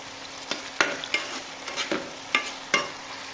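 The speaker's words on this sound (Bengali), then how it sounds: "এখন হচ্ছে চাপা শুটকিটা আমরা দিয়ে দিব। এটাকে কিছুক্ষণ নাড়াইতে হবে।" Chepa dried fish being stirred and fried in a pan, with a soft sizzle under several sharp scraping clinks of a spatula against the pan, spaced irregularly and fairly quiet.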